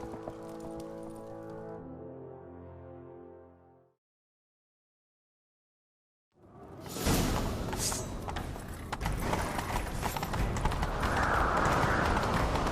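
After a brief silence, horse hooves pound rapidly in a galloping rhythm in The Witcher 3 video game, loud and close, with a noisy rushing background.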